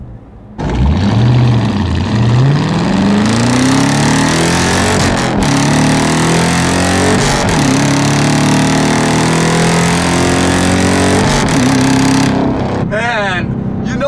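A 2018 Dodge Challenger R/T Shaker V8 engine revs and accelerates through rising and falling pitch sweeps, a deep continuous roar sustained throughout with brief shifts in tone.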